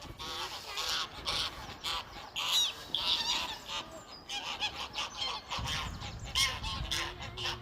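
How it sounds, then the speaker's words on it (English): Geese honking repeatedly by the Thames at Abingdon, a noisy overlapping chorus of harsh calls from a flock close by, continuous throughout. "geese are in full voice today"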